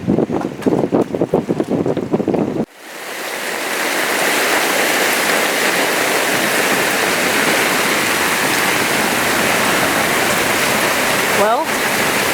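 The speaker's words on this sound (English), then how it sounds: "now it's rained like this for 7 days" Heavy tropical rain drumming on a sailboat anchored in Martinique, a loud, steady roar of downpour that fills the scene after a sharp cut from earlier voices and sounds, continuing unbroken to the end.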